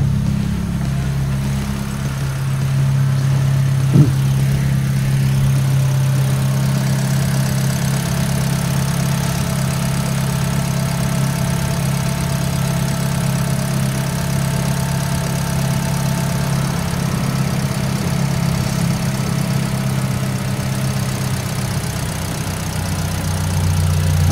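Toyota Agya car engine idling, a steady low hum that stays even throughout with a faint higher whine, close and continuous.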